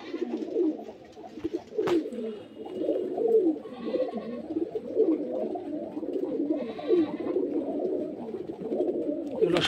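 Pigeons coo steadily among a crowd of birds at a pigeon sale in Beldanga, Murshidabad, with overlapping low calls, a few sharp clicks and some bleat-like cries, close and continuous.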